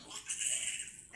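A pig grunting on a working pig farm that keeps breeding sows, with a short nasal call running near and fairly loud for about a second, ending in a brief rougher snort.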